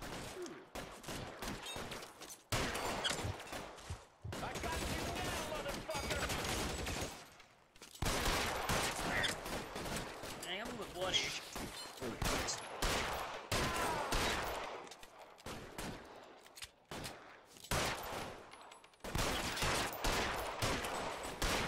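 Bursts of gunfire in the video game L.A. Noire, loud, close volleys separated by short silent gaps, with overlapping shots and game sounds and no talk.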